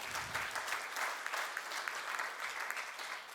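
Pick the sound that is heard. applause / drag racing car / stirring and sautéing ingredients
applause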